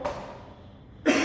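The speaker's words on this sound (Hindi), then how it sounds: "थोड़ा सा गला खराब है तो बीच में खांसी आती रहेगी।" A lecturer with a slightly sore throat coughs, with one short close burst at the start and a stronger one near the end, separated by a quiet room.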